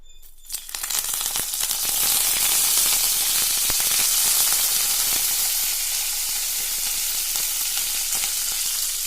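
Curry leaves dropped into hot coconut oil burst into a loud, steady sizzle that swells within the first second and holds evenly throughout, with no voices.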